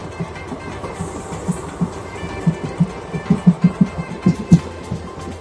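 A train runs on rails between stations near Lalgudi, with rhythmic clickety-clack wheel beats that grow louder and more regular over a steady rumbling background.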